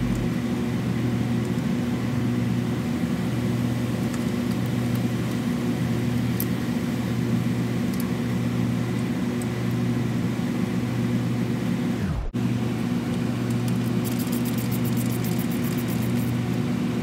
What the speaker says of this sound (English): Then start the engine and wait until the car lifts to its normal ride height.